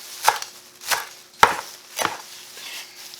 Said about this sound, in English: And with cilantro, I just kind of start chopping it up.